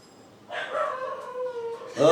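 A dog gives a drawn-out, wavering howl that slides downward in pitch, close and moderately loud, followed by a sharper yelp-like burst at the end.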